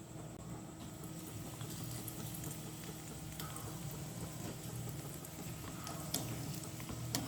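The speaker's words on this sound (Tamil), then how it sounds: "இனி எண்ணெய் கொதிச்சுட்டு இனி நாங்கள் செத்தல் மிளகாயை போட்டு பொரிப்போம்" Dried red chillies fry in hot oil with a soft, quiet, continuous crackling sizzle and a few faint ticks and pops.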